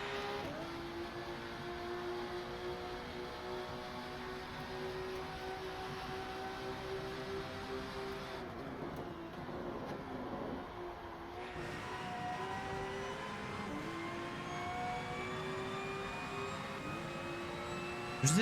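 Race car engine in the video game Rennsport, a steady high-pitched whine with layered harmonics that rises and drops through gear changes midway, loud and continuous with no talking.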